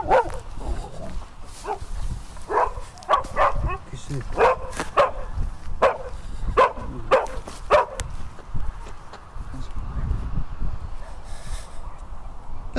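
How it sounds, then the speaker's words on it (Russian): A dog barking in a grassy field, repeated sharp barks and yips at an irregular rhythm, close and loud, heard under a voice speaking throughout. "Увидев его, собака стала лаять."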